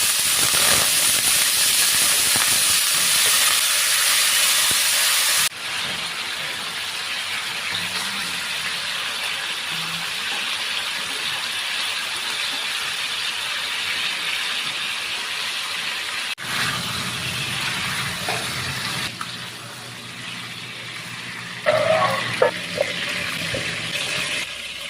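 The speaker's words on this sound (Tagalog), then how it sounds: "Piprito ko lang to ng bahagya." Chicken pieces frying lightly in cooking oil, a loud broad hiss at first that settles into a steady softer sizzle, with faint clinks of utensils near the end.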